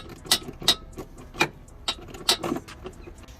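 A T30 bolt is worked loose from a BMW E90 3 Series headlight, giving a series of sharp, close metallic clicks and ratchet ticks spaced irregularly in a quiet setting.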